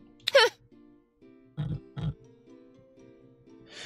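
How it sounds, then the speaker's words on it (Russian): A cartoon pig in the video game Koa and the Five Pirates of Mara gives a short squealing oink followed by two low grunts, set against a soft steady game music background. "Или вы заменили Майо на свинку?"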